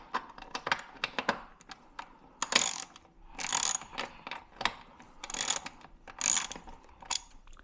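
Ratchet wrench clicking a short exhaust bolt loose on a Honda Ruckus scooter, using a 10 mm socket: quick bursts of close, dry ratcheting clicks with brief pauses between strokes, no voices.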